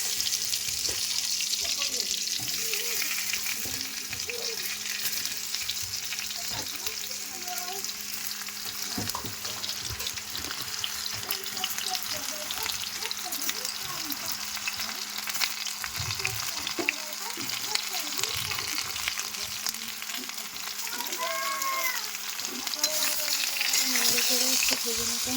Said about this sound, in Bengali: আমগুলো আমি একটু ভেজে নিচ্ছি।